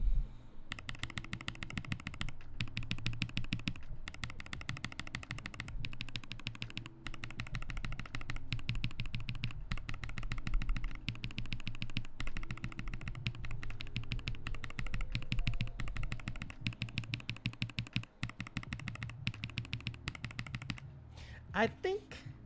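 Rapid, steady clacking from a mechanical keyboard with lubed, filmed switches fills the stretch, dense and close, with a short pause near the end before a few final keystrokes.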